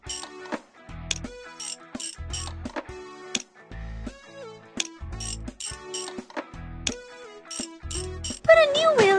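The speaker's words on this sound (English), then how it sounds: "Twist off the holding screws! Use a wrench!" Cartoon ratchet wrench twisting off the holding screws of a school bus wheel during a repair stop at a gas station in a children's game, rapid clicking bursts repeated in short rhythmic runs, close and clear with game music.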